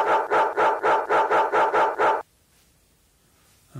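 A person imitates a dog barking, giving about nine quick, loud, evenly spaced woofs close to the listener, followed by near silence.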